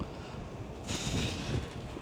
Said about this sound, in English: It's quite windy as well, isn't it?